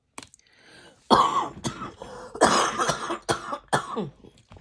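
Several harsh, wet coughs from a miserable, long-lasting cough, in short bursts, some closely spaced, with brief pauses between them, close and fairly loud.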